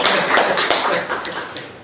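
Audience applause for a moderator at a meeting, a short burst of scattered claps fading out over a couple of seconds.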